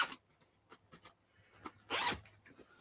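The zipper on a sneaker bag is worked in several short rasping tugs, then one longer, louder zip pull, all close by and without talking.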